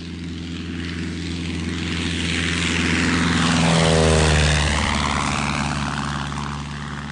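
A propeller airplane engine drones steadily as the aircraft approaches and passes close overhead, swelling to a loud peak with a shifting pitch before fading, heard alone without voices in an audio drama scene.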